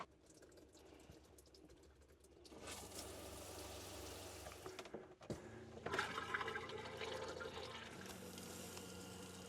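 Water runs from the faucets of an RV to flush out the last of the antifreeze, a faint steady rushing flow that strengthens after a couple of seconds, with brief knocks and spluttering as it continues.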